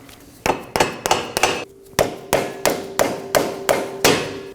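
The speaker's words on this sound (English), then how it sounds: "Once it's in place, strike the shaft with a rubber mallet." A rubber mallet strikes a CV axle shaft into a Toyota Corolla transmission in about a dozen firm, evenly spaced blows, each a sharp close thud with a slight ring, after a short pause near the start.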